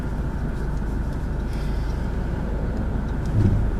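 Steady traffic rumble of cars passing by on a busy road, a continuous low whoosh with a slightly louder swell near the end, no voices.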